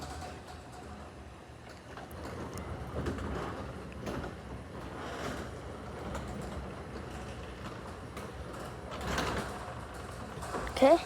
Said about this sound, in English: All right, we'll open this door again with, this button's not programmed or anything